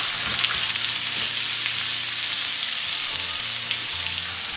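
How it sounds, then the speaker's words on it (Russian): Chopped onions and carrots sizzle in a hot frying pan over high heat, a steady loud crackling hiss with occasional scraping as the vegetables are stirred. "Поэтому мы быстро должны все обжаривать на большой температуре."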